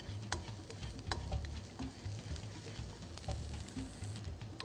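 Garlic frying in a pan with lightly golden onions over lowered heat for a Sudanese stew, a soft steady sizzle with faint stirring ticks and scrapes, quiet and close, no talk.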